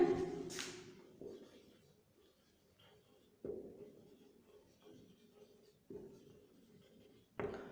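Chalk or marker scratches on a classroom board in short bursts, several separate strokes with quiet gaps between them, close and fairly faint.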